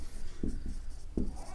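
A teacher handwriting a Sanskrit word in a lesson, a few short scratchy strokes in quick succession against a quiet room.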